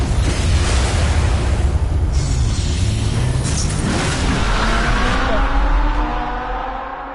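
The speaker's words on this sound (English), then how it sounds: "That's a nice fucking car sound," A car engine in a Batman video game roars loud and close in a sustained, rumbling surge that fades slightly at the end.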